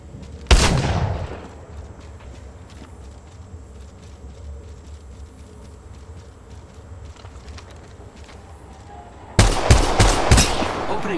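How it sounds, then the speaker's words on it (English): Gunfire in the mobile shooter Apex Legends Mobile: sharp bursts of rapid shots at the start, then a lull of quieter ambient game noise, followed by another dense volley of automatic fire near the end. "Opening fire on the contact."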